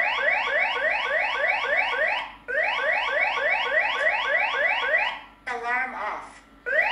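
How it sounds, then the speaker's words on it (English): A eufyCam 2 Pro security camera alarm siren sounds loud and close, a rapid repeating rising electronic whoop that cuts out briefly, resumes, then gives way to a short warbling tone. "You can adjust the volume of the alarm."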